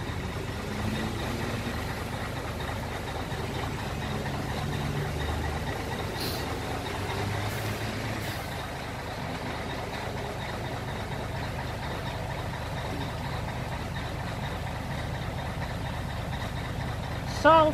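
An unloaded delivery truck's engine idles with a low steady rumble that holds through the whole stretch, with faint passing traffic noise and a brief louder burst near the end.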